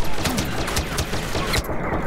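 A grenade detonates during a Star Wars Battlefront match, a dense burst of sharp blasts and crackling gunfire rattling for two seconds amid game noise.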